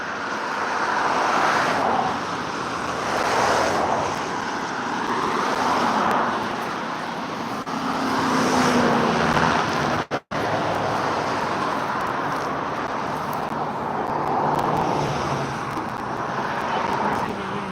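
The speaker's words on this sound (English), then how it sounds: "We hear the cars, okay." Cars pass on a road beside a river where someone is steelhead fishing, producing a steady, fairly distant wash of traffic noise that swells and fades in slow waves, alone without talking.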